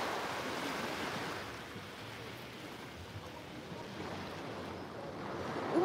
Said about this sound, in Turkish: Umarım sizi de biraz böyle rahatlatmıştır bu dalga sesleri